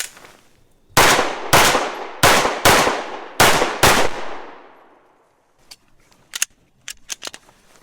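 Six rapid handgun shots from a Walther PDP F Series ring out loud and close, each with a long decaying clang from steel targets, followed after a pause by a few sharper, quieter metallic hits.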